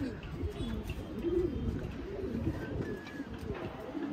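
Pigeons coo repeatedly in soft, rolling calls over a busy background murmur, several birds overlapping at moderate distance.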